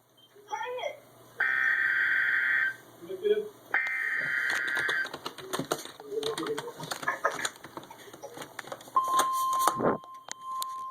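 Emergency Alert System tornado warning tones from Little Rock, Arkansas: two long, loud steady dual-tone blasts, then a clear single sustained tone near the end, with people talking and background clatter in between.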